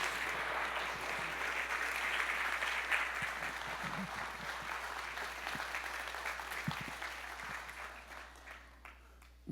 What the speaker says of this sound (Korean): 우리 박수로 환영해 주시면 감사하겠습니다